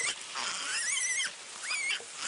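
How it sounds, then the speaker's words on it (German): A piglet being carried squeals loudly in two long, shrill, wavering cries that have a short gap between them, heard close up and with no talking. "das Schweinchen lässt sich nicht gern tragen und quiekt ganz furchtbar"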